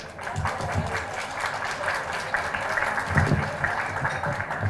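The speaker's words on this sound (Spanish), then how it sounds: "para quien solicito un fuerte aplauso" Audience applause welcoming a moderator at a panel discussion, steady clapping with a few louder thumps and faint voices in the room.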